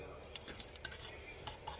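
Caramel being stirred in a pot, faint close metallic clinks and scrapes of a utensil against the pot, scattered and irregular over soft background noise.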